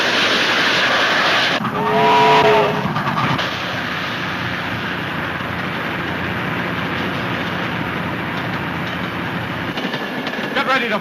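A train with a caboose running along the track, a steady, loud rumble that fills the whole stretch, with a brief tonal whine near the start and no voices.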